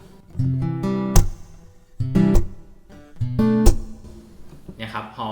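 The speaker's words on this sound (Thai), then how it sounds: "เดี๋ยวเราจะได้ยินเสียงรีเวิร์บด้วยครับ" Electric guitar chords through a TC-Helicon Harmony G XT pedal's reverb, strummed in three bursts, each ringing out with a spacious reverb tail, ending on a brief softer flourish.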